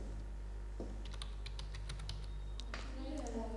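Computer keyboard typing during work on a bill format in Microsoft Word, with a run of quick light key clicks mid-clip and a firmer keystroke near the end, over a steady low hum.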